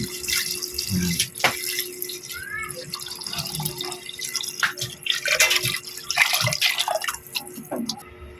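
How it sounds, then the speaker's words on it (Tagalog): Tap water running and dripping into a pot for chicken tinola, a steady splashing trickle with intermittent drips and clatter from close by, no talking. "Yung tubig natin ilalagay mga koys, yung sakto lang sa ating niluluto na tinola"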